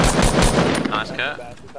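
Rapid gunshots in a battle royale shooter, a quick cluster of sharp close cracks in the first second, then scattered fainter shots and game noise trailing off.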